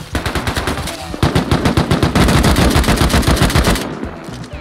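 Rapid automatic gunfire in the survival game Rust, a loud close burst of evenly spaced shots firing continuously for several seconds before cutting off.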